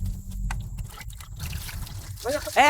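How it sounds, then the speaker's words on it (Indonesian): Water is sloshed and poured over a person, a splashing trickle mixed with raised voices speaking nearby. "Ini ngapain disiram-siram gini?"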